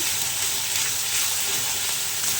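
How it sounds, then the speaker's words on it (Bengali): A steady, bright sizzle of ginger garlic paste frying in hot oil, continuous and close, with no talking. "এরপর আমি সমপরিমাণ আদা রসুন দিয়ে দিলাম, 1 চা চামচের মতন আদা রসুন দিলাম।"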